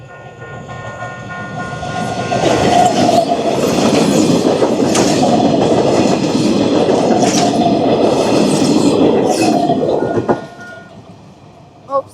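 A train rolls loudly through a level crossing in Turkey, with steady clickety-clack from the wheels for about eight seconds before the noise fades. A few faint voices are heard near the end.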